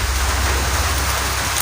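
Rain falls steadily and evenly throughout, a dense continuous hiss of drops on surfaces with no voices over it.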